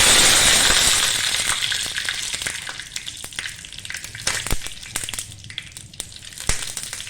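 Curry leaves hit hot oil with mustard seeds, the gas just switched off: a loud sizzle that fades over the first seconds into scattered crackles and sharp pops.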